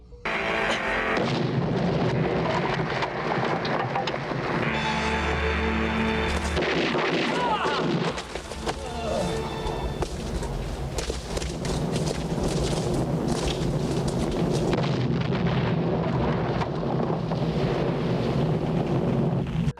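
Gunfire from a 1983 action film shootout, Escape From The Bronx, in which police are gunned down: continuous loud shots and blasts layered over a dense, rumbling film soundtrack, with no clear pauses across the whole stretch.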